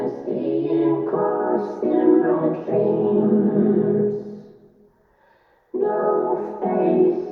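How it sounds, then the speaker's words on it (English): An eerie, mysterious sampled vocal loop from Splice plays alone at moderate level, its sustained sung phrases breaking off into a brief silence before resuming. "So I found this vocal loop in Splice,"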